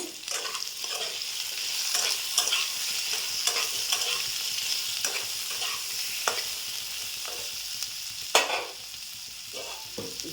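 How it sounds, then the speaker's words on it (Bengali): Covered potatoes with salt and turmeric fry in a pan, a continuous close hiss of oil punctuated by irregular spatter crackles and stirring taps, one louder knock near the end. "চাপা দিয়ে দিয়ে ভাজবো আলুটাকে"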